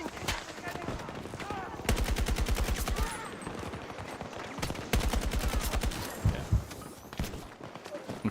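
Rapid automatic rifle bursts in Battlefield 6, several sustained volleys with short gaps between them, fairly close, with light footsteps and movement in the pauses.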